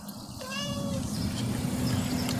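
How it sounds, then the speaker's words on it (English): A house cat meows once, clear and close, over a steady low background rumble with no talk. "It's a house cat."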